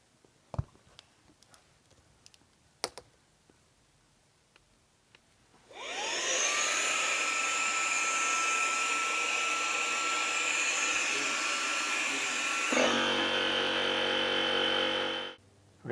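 An electric air pump switches on and runs for several seconds with a steady, loud whining roar while inflating a FlowStop single-chamber pipe plug to 15 psi, changing pitch partway before shutting off; scattered small clicks precede it.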